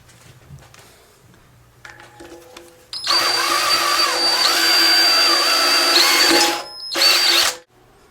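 A power drill bores a hole in steel, whining loudly and steadily for about four seconds. It briefly cuts out, then revs again before stopping. Quieter handling clatter comes before it.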